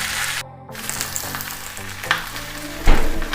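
Karimeen pearl spot fish wrapped in banana leaf frying in coconut oil, a steady close sizzle and crackle that keeps going throughout, with a brief dropout and a louder pop near the end.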